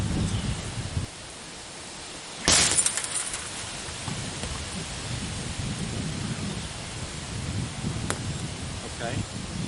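A titanium sword strikes a Geo car's window with a sharp crash, followed by a burst of shattering glass. Scattered tinkles of falling shards come next against a rustling outdoor background.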